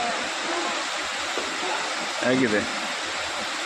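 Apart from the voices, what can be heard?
Vibhuti Falls waterfall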